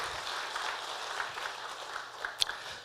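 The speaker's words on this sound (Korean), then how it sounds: "이렇게 앉아있는 우리 자녀들 한번 축복의 박수 하십시다" A church congregation at a Friday night service applauds to bless the seated children and youth, with steady moderate clapping and a few sharper claps near the end.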